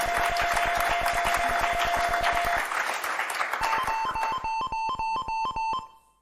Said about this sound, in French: Vous voulez applaudir? Alors applaudissez.